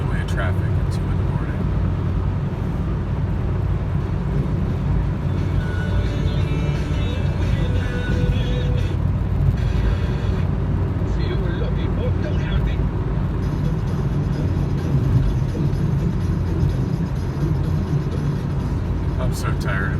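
Inside a vehicle on an empty road at 2 a.m., a steady low road and engine drone runs continuously, with someone talking over it.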